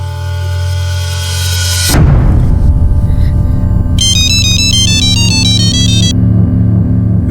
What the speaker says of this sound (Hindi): तो फोन लगाओ,